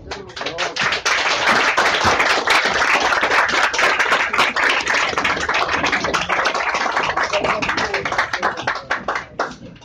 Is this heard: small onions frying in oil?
no